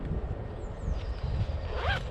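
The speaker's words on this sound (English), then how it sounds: "it has a large zip pocket. I think it's a YKK zipper on there as well." A YKK zipper on a Helikon-Tex Numbat chest pack's large zip pocket is pulled along in one smooth, close rasping run, ending with a brighter zip.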